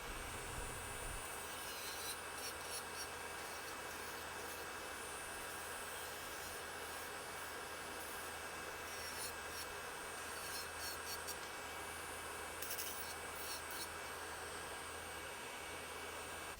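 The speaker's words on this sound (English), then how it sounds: "I have the dust collector open at the top and it's sucking it down really nicely." MAKARTT 60W nail dust collector running with a continuous airy fan whoosh, steady and fairly faint, with occasional light scraping from filing a nail.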